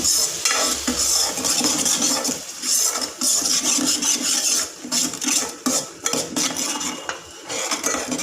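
Paneer masala with yogurt frying in a pan, a spoon stirring vigorously against the metal over a steady sizzle, with clinks and scrapes throughout, close and busy, with no voices.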